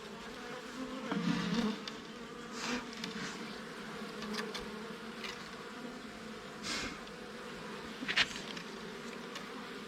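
Bees buzz around a hive in a soft, continuous hum, with individual insects swelling louder as they pass close by.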